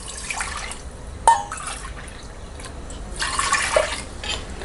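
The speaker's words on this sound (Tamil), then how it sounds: "நம்ம உளுந்து சாதத்துக்கு தேவையான அளவுக்கு நம்ம தண்ணி ஊற்றிக்கலாம்" Water is poured into a cooking pot for urad dal rice in steady streams, with splashy trickles and a sharper splash partway through, close-up in a quiet kitchen.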